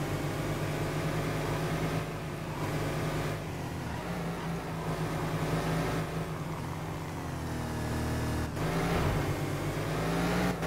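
A Mercedes S 55 AMG engine drones steadily in World Racing during a wet aquaplaning race at Hockenheim, holding a continuous loud tone with slight shifts in pitch and brief dips like gear changes.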